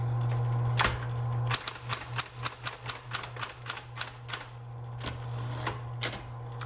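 A 1970s Smith Corona Electra 110 electric typewriter types a quick run of about a dozen sharp, evenly spaced key strikes over a steady motor hum, then a few scattered keystrokes, close and clear.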